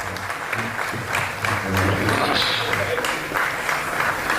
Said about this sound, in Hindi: जावेद साहब के लिए जोरदार तालियां।